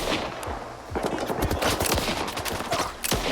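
Rapid automatic weapon fire in the shooter game S.T.A.L.K.E.R. 2: Heart of Chornobyl, dense, loud bursts of sharp shots cracking continuously for about three seconds with little pause.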